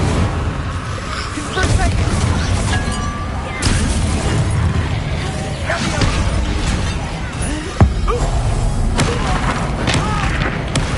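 Spell explosions from Bombardus and Incendio in Hogwarts Legacy, loud dense booms and crashes layered with game effects and voices calling out, one sharp impact standing out near the end.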